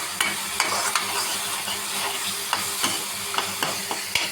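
Ginger garlic paste frying in a pan, a steady close sizzle broken by repeated scraping clicks from the stirring spoon, with no talking.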